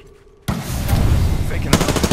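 Gunfire in the video game Apex Legends: a loud, sudden burst of rapid automatic fire that starts abruptly and keeps rattling steadily throughout, with a sharper volley near the end.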